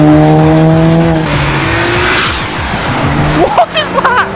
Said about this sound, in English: Listen to that supercharger.